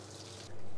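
Water runs into a bowl of rice, a close, steady trickle that swells into a louder, fuller gush halfway through.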